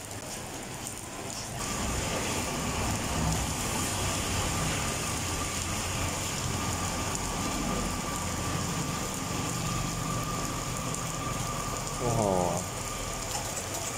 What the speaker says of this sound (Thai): วันนี้ฝนตกหนักมากนะครับ